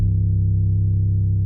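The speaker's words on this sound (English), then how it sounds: "So I loaded in this 808 sample" A sustained 808 bass sample in FL Studio for a UK drill piano beat, a deep distorted tone holding steady alone for about a second and a half, loud and close.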